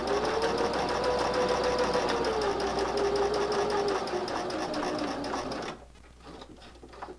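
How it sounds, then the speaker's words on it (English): A sewing machine stitches fabric for a corner bookmark in a steady, rapid mechanical run, then stops abruptly near the end, leaving a quiet room. "lift and turn, and continue sewing"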